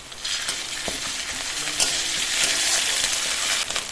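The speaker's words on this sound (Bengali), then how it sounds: "পেঁয়াজ আর রসুনটা 2 মিনিট ভেজে নিয়েছি" Onion and garlic fry with ginger-garlic paste in a pan, a loud dense sizzle running throughout with a few faint scrapes of stirring, no talking.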